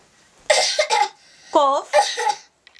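A voice coughs in short bursts, with a brief vocal, almost sung tone between them; several rough coughs close up, then a quiet pause.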